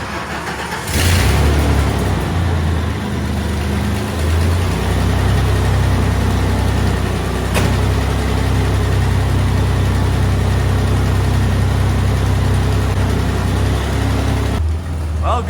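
A shop truck engine with a broken timing gear starts up and settles into a steady, loud idle that runs on continuously, with a low rumbling drone throughout.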